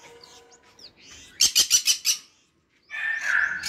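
Lovebirds in a new aviary give a quick run of five loud, sharp chirps, with softer twittering before and a burst of harsher chatter after, close by.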